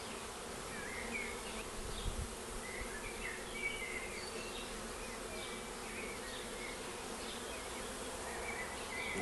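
Many honey bees buzz together in a soft, continuous drone as they queue to enter a hive, with individual wingbeats rising and fading close by; no one speaks.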